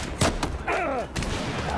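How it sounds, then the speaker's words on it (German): Battlefield 4 multiplayer gunfire, a couple of short sharp shots followed by rumbling in-game noise and a sweeping whine, heard under a voice in a busy firefight. "Alter, da werde ich von überall beschossen"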